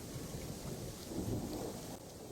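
Steady rain pours down alongside low rolling thunder during a storm, forming a dense, continuous wash of sound with no voices.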